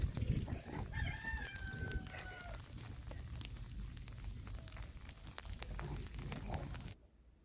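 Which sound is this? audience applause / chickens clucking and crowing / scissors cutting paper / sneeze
chickens clucking and crowing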